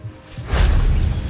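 A Levioso spell in Hogwarts Legacy lands as a soft rising whoosh that swells into a brief airy rumble, heard alone and fairly close.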